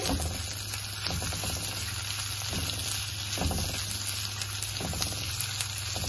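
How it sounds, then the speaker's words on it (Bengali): Small pieces of chicken breast marinated in soy sauce and black pepper fry in a pan with a loud, steady close-up sizzle, broken by faint rhythmic stirring scrapes and no speech. "এইটা আমি একটু ভাজা ভাজা করে নিব"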